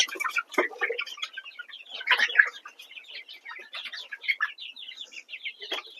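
Poultry-farm chickens cluck and chirp in a busy, irregular chorus with sharp bursts at close range, all fairly quiet, with no voices.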